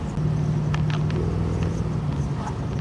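A 1978 Ford Bronco with a 400M V8, freshly carburetor-tuned, idles steadily with a low, even rumble, close and continuous throughout.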